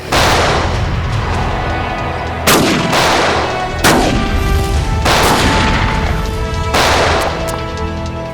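A loud gunfight in a Hindi TV crime drama: several sharp, booming shots land at irregular intervals over a dense, continuous rumble of background noise and score, with no talking.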